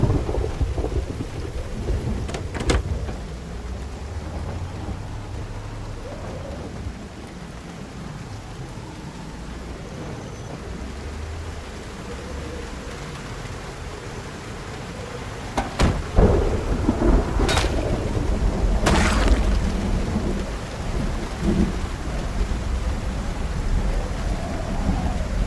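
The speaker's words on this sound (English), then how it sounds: "I cannot stress enough how not cool a storm that sounds like zombies is to me." Thunderstorm with steady rain in the zombie survival game Project Zomboid, a continuous downpour hiss broken by loud rumbling thunder claps near the start and several sharp, close cracks in the back half.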